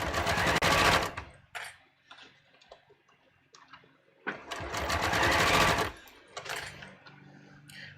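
A sewing machine stitches fabric between gathering stitches in two loud, fast whirring bursts, with quieter ticking and handling sounds in the pause between them.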